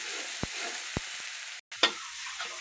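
Spice paste fries in hot oil with a steady, close sizzle, broken by a few brief utensil taps and a short gap partway through.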